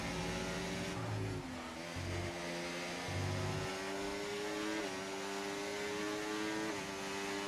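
F1 cars race around the Red Bull Ring in the F1 24 video game, a continuous high engine whine with shifting pitch and brief gear changes, steady and moderately loud throughout.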